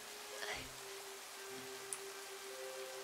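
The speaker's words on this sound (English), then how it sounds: "Oh god, it's raining really bad." Heavy rain falls in Minecraft as a soft, even hiss of rainfall, with a brief tonal game sound and a quiet voice briefly audible over it.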